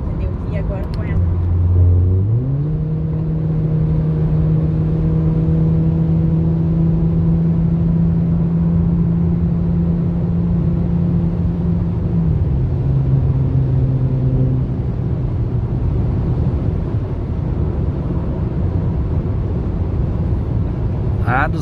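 Mercedes A200 with 156 hp and a Volkswagen Jetta 1.4 turbo with 150 hp accelerating hard side by side on the road, a loud sustained engine drone that steps up in pitch through gear changes, heard from inside one car with occasional talk.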